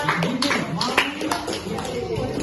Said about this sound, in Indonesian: Tepuk tangan sekarang.